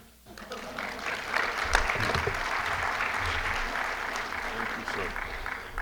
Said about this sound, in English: And this is where y'all start clapping.